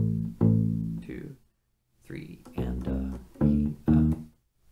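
U-Bass playing the second half of the bass line, short plucked low notes in a syncopated phrase with clear gaps between them, close and moderately loud.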